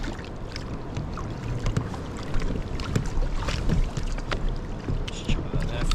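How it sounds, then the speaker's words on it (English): Kayak paddling on a choppy sea, with continuous water sloshing and wind buffeting the microphone, plus scattered close splashes and knocks throughout. "Now I'm going to be paddling only about 2 miles an hour tops."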